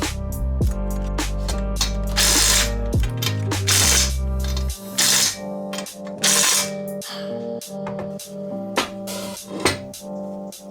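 Nuts are tightened onto bolts during the reassembly of a homemade 4WD mini trophy truck, heard as loud, close ratchet clicking in rapid bursts, with metallic clinks and a pulsing mechanical hum.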